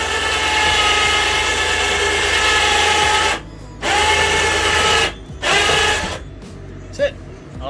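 An electric bed lift in a converted cargo trailer camper lowers with a loud, close motor whine that runs steadily, then stops and restarts in short bursts before halting.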